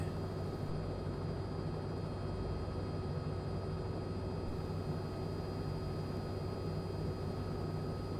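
A Robin helicopter hovering in Microsoft Flight Simulator 2020, a steady, dense rotor and engine drone with a constant whine above it, holding even loudness throughout with no talk.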